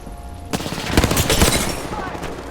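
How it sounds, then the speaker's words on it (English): Rapid automatic gunfire in Apex Legends, a loud crackling burst of overlapping shots that starts abruptly after a quiet moment and rattles on before easing off. "Getting shot at."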